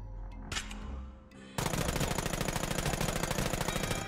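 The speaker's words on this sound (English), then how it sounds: "MG is a fully automatic weapon, meaning you can hold down the trigger." After a short quiet stretch with a few faint sounds, a fully automatic MG in a video game opens up on targets, a loud, rapid, continuous stream of shots running steadily to the end.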